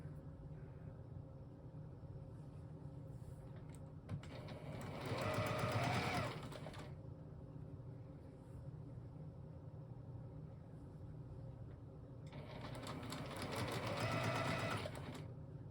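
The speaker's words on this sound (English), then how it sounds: "I moved it over to the sewing machine and kept the pieces in the same order. So I can just chain piece this together." A sewing machine chain pieces a quilt block in two bursts of rapid, steady stitching, each about three seconds long, separated by quiet room tone.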